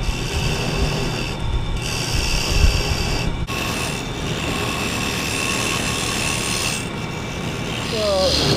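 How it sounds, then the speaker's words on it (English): A small spindle gouge cuts sapele wood spinning on a lathe, a steady close rasping scrape over the motor's constant hum, with brief breaks in the cut. "I've got a small spindle gouge, and let's see if I can work this thing out."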